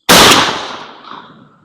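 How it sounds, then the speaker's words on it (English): A single loud, sharp rifle shot from a rifle fitted with an Olight Osight red dot sight, fired up close outdoors, with a crack and a rolling echo that fades over about a second. "Safety off and firing."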